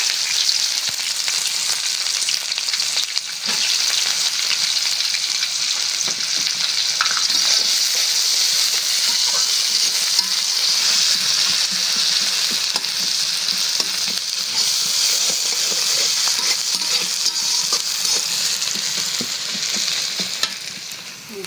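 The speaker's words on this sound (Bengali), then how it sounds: "পেঁয়াজটা একদম লাল করে ভাজা দিলাম" Onions fry in oil seasoned with fenugreek and cinnamon in a pan, cooking until browned. A loud, steady sizzle runs throughout, with frequent stirring scrapes and no talk.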